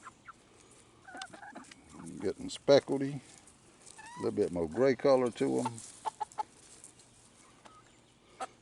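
Hens and a rooster cluck faintly in a backyard flock, their calls sitting under a person's close, steady talking.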